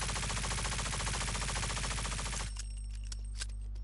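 Uncontrolled automatic gunfire in the video game Rogue Company, a rapid, loud stream of shots that stops abruptly partway through and is followed by faint clicks and a low hum.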